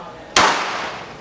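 A single sharp gunshot rings out on an IDPA shooting stage, fired with a backup gun, its report loud and close before a long ringing decay.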